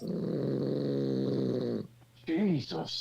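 Loud, steady snoring with a rough, rumbling drone, followed by a person's brief exclamation and some chatter.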